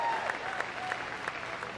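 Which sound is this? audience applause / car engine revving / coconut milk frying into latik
audience applause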